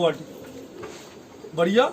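Pigeons cooing in a loft of fancy flying pigeons, short soft coos at the start and again near the end, close by, with someone talking over them.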